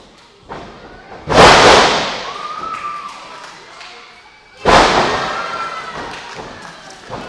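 A wrestler is slammed onto the ring mat with an upside-down fireman slam during a pro wrestling match. Two loud, heavy thuds land about three seconds apart, each followed by a decaying rumble and crowd-like noise.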